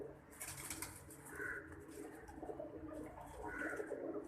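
An old Sialkoti breed pigeon coos close by, two soft throaty coos spaced a couple of seconds apart, with faint breathing and light rustling in between.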